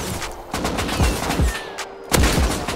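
Rapid gunfire in the survival game Rust, a dense burst of sharp repeated shots with several louder close reports standing out against ongoing background battle noise.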